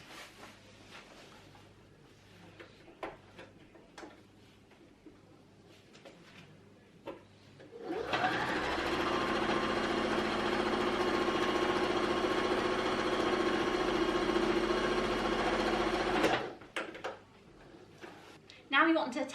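A sewing machine stitches a fabric seam in one continuous, steady whir lasting about eight seconds, loud and close, framed by quieter handling clicks and rustles before and after.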